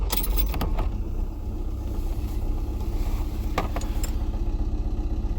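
A Ford Transit Custom van on a short test drive after an ABS and traction-control wheel speed fault repair, with a steady low road and engine rumble throughout, a few brief knocks or rattles early on, and no talk.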